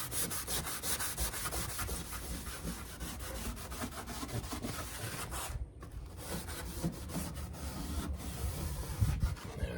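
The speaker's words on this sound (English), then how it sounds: "And do some scrubbing." Vigorous scrubbing of a vintage camper's surface after a WD-40 spray, a dense run of fast rasping strokes up close, with one brief pause midway before it resumes.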